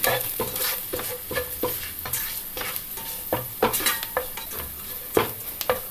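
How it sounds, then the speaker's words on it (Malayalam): Garam masala and spice powders sautéing in a pan, a steady loud sizzle under quick, repeated spatula scrapes and clinks against the metal. "ഇതൊന്ന് വഴറ്റിയെടുക്കാം"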